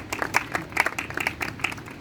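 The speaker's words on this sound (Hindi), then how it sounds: "तालियां बजती रहनी चाहिए" Scattered, uneven clapping from a small audience at a hospital stroke-day gathering, sharp individual claps rising and falling in bursts rather than a full ovation.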